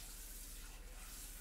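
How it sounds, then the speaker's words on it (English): A dish is rinsed under running tap water in a home kitchen, producing a faint, steady hiss of flowing water. "I'm gonna wash this now. I'm gonna clean my dish."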